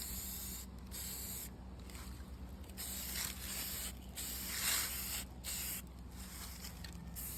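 Aerosol spray can laying a light dust coat of paint on a bobber motorcycle part, five or six short hissing bursts with brief pauses between them, close and quiet with no talking.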